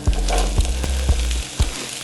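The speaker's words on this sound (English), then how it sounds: "So I'm just gonna add my vegetables, and they're gonna sizzle" Vegetables for fajitas sizzle loudly in a hot frying pan, a steady crackling hiss broken by several sharp clacks of a utensil stirring, close up.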